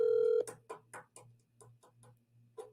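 A telephone call reaches a voicemail box that has not been set up: a steady electronic tone cuts off into a series of rhythmic clicking pulses over a low hum.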